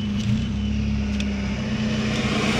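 A car creeps into a parking space at a market lot, its engine idling low and steady with a constant hum close by and no talking.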